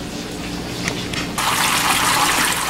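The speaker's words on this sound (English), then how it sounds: "With the rain on manual, it's too noisy to have on a timer like everything else in the aquarium is." A rain system in a reptile aquarium tank switches on partway through, a steady loud hiss of falling water spray replacing a quieter background and continuing evenly to the end.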